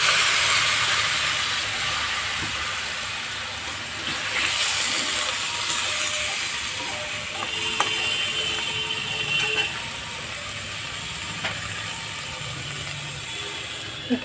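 Water poured into a hot pan of pumpkin and pointed gourd curry gives a steady, loud hiss and steam that slowly fades over the whole stretch, with a few faint clinks, and no one talks.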